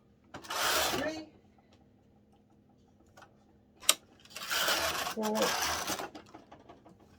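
A KH2 chunky knitting machine working thick yarn at the limit of its capacity, giving two long rasping carriage passes with a sharp click between them, while a person talks quietly.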